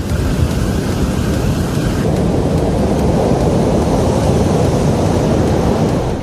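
Rough sea and heavy rain lash the coast near Sirkazhi in a storm, a loud, steady roar of wind-driven surf and downpour with deep rumbling, continuous and close throughout with no voices.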